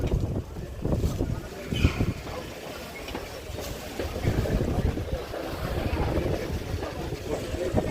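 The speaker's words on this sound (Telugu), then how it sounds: "ఓ ఏంది గాలి ఇంత ఉంది" Strong gusting wind roars steadily across an outdoor chilli market in Guntur, buffeting the microphone in loud rumbling waves, with traders' voices talking underneath.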